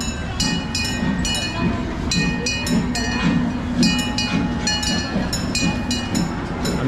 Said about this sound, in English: We've got to wait for the train to go past.